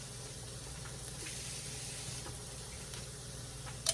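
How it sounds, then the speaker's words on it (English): Onions and minced garlic sizzle softly and steadily in a pan, with a faint crackle throughout and a small clink near the end. "so our onions are cooking now"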